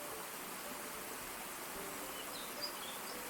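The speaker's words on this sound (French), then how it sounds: "L'eau pure et claire coule avec douceur, créant un murmure constant qui semble vous inviter à vous rapprocher." Steady broadband rush of clear water pouring down a waterfall, a constant even murmur with no breaks, fairly soft and heard alone.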